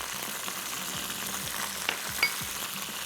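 Spices and garlic-ginger paste fry in a pan while being stirred, a steady close sizzle with scraping strokes of the spoon throughout and a couple of sharper clicks, no talking.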